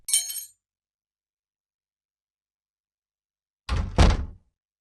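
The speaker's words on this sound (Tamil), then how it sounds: "கதவு பூட்டிக்கோ" A door shutting with a solid thunk and a metallic latch or lock click after a brief high clink, then silence, heard at close range in an indoor scene from a Tamil romantic film.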